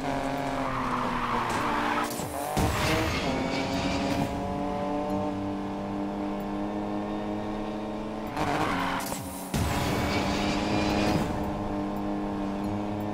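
Racing cars in the video game Need for Speed Payback roar continuously with engine harmonics, and two sharp broadband bursts of tire skidding and squeal cut in around the second and ninth seconds.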